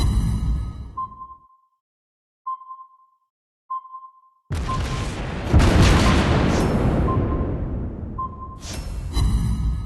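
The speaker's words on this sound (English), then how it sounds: "We just hit the enemy ship! Nice shot!" Naval artillery from a German cruiser in a video game fires and strikes an enemy ship, heard as a long loud roaring blast and rumble. Short pinging sonar-like tones come before it, and game tones continue afterward.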